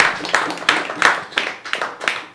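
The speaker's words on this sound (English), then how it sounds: "Let's go and clap and everybody be happy and do stuff." An audience at a comedy open mic claps in a steady rhythmic beat, sharp claps landing about three times a second, fairly close and loud with no talking.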